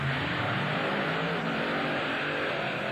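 Racing trucks in a 1996 Trucks & Tractor Power drag race at Springfield, Missouri, a Chevrolet against a Ford, engines roaring in a steady, loud, dense drone that holds throughout with no talk.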